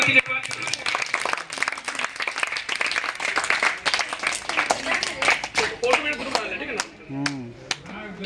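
An audience greets guests with loud, uneven clapping from many hands, individual claps popping out near the microphone, while voices talk and call out over and under the applause.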